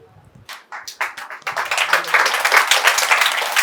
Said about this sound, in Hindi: तालियां बजाते रहिए।